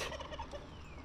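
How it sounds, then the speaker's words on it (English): A male turkey gobbles in a quick rattling burst on a farm kept with chickens and a goat, fairly faint and alone without talk. "We've got chooks and a male turkey and a goat."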